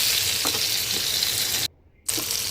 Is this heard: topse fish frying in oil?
yes